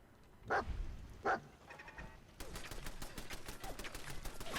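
Dogmeat, the dog companion in Fallout 4, lets out two sharp, separate barks close by, followed by a sustained stretch of rapid gunfire crackling through the rest.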